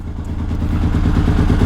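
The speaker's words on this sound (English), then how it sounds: "The XS750 is running." A 1978 Yamaha XS750 motorcycle engine runs steadily on a cold day, its close, loud mechanical drone and rapid low firing pulses holding an even, continuous rhythm throughout with no speech.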